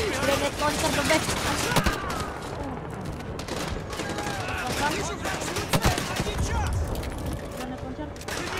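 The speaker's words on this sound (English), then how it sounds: "Oh my god, mental granat launcher-nya. Oke, nah kan kena." Grenade launcher fire in Call of Duty Modern Warfare 2 Remastered comes as repeated sharp bursts and booming blasts amid ongoing gunfire.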